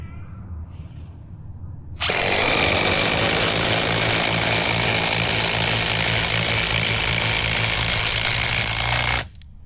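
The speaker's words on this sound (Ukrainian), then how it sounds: "обидва імпакти в максимальному режимі. І поїхали." Two impact drivers, a Makita DTD173 and a Dnipro-M DTD-201BC, run at maximum mode driving screws, a loud continuous rattling hammer-whine that starts abruptly and cuts off sharply after about seven seconds.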